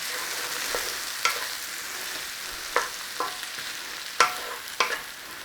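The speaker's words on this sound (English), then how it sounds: "So we are after browning a crust on the potatoes." Potatoes fry in a pan to brown a crust, a steady soft sizzle running throughout, with a few sharp scrapes and clinks from turning them over, close up and without talk.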